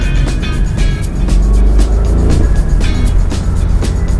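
A BMW M850i xDrive convertible accelerates on an open road with its top down, its engine rumbling steadily under rushing wind noise and a series of sharp clicks and knocks.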